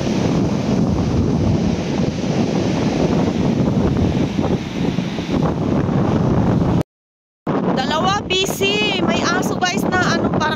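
Strong wind roars and buffets the microphone continuously on a beach, with surf in the background; after a brief dropout, a voice speaks over the gusting wind.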